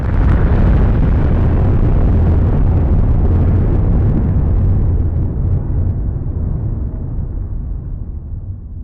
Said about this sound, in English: The first one being an atomic bomb explosion that Fiona mentioned